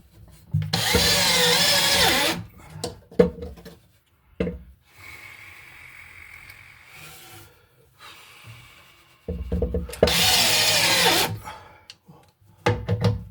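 Cordless power drill driving screws during a closet light fixture installation, two loud bursts of a couple of seconds each with quiet handling and rustling between them.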